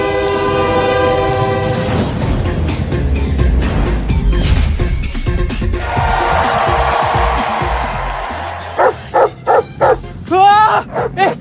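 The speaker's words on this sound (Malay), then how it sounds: "Anjing lah weh." A dog barks a few times in short, loud bursts near the end, after a long stretch of train noise with a horn blaring and rail cars rumbling. A voice speaks briefly in the middle.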